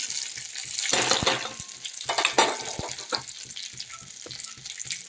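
Kalonji seeds and dry red chillies frying in hot oil in a pan for a Bengali fish curry, crackling and sizzling in bursts with a few stirring scrapes, close and moderately loud.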